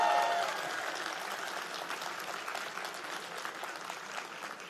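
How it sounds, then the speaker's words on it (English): An audience at a university convocation ceremony applauds for a chief justice, a steady, moderately loud wash of clapping that holds evenly for several seconds without voices. "So a big round, a big applause for the Honorable Chief Justice."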